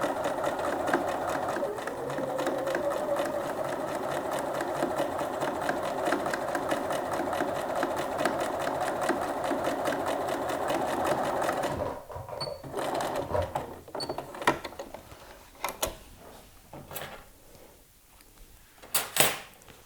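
Sewing machine running a steady straight stitch at 3.5 length, topstitching a jeans seam. The fast, continuous whir lasts about twelve seconds, then stops and gives way to scattered clicks and handling noises.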